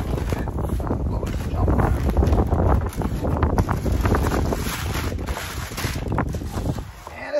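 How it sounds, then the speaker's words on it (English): Wind blowing hard outdoors, loud gusting roar buffeting the microphone, surging and dropping over several seconds, with a faint voice underneath. "Wind blowing."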